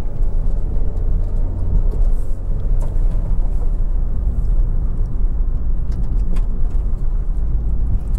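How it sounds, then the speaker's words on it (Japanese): A Toyota Axio GT engine lugging along at about 1500 rpm on a mountain pass, heard from inside the car as a steady, loud, low rumble with road noise and no speech. "もう回転数が1500回転で走ってるからね、今ね。"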